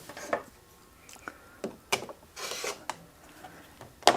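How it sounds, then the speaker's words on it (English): Rotary or blade cutter trimming quilt fabric pieces along a ruler, heard as several short scraping strokes with small knocks and a longer rasp in the middle, fairly close and alone. "Grab my ruler and trim."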